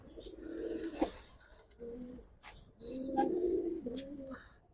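Original gangchil pigeons coo nearby in low, throaty bursts, two longer rolling phrases broken by softer pauses, with faint chirps and a little background noise.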